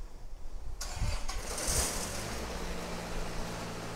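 An engine-driven welder cranks and starts up with a sharp catch, then settles into a steady mid-pitched idle that runs on alone, fairly close by.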